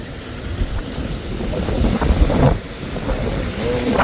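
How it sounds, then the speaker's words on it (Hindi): Strong storm wind blowing through a mountain village in Uttarakhand, loud rushing gusts buffeting the microphone and rising and falling, with faint voices in the background. "पूरा देखो आप लोग, कितनी भयंकर वाली हवा चल रही है"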